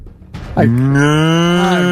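A cow lets out one long, loud, close moo that holds steady for about a second and a half, following a brief faint rustle.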